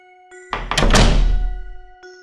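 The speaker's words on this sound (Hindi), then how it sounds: "इतने में पीछे से दरवाजा जोर से बंद हुआ।" A door slams shut hard behind someone in a Hindi horror story, one loud thudding impact that rings out and decays over about a second and a half, with no talk over it.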